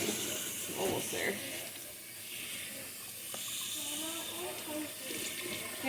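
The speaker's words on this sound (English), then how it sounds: "I'm just gonna get this rinsed out" Running water rinses a freshly dyed sweater at a sink, a continuous hissing splash that holds steady throughout while a person talks over it.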